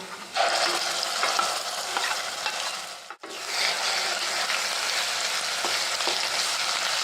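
Ground masala paste sautéed with browned onions in a pan for shev bhaji, a steady loud sizzle and frying hiss with stirring, broken by one brief pause, no talk.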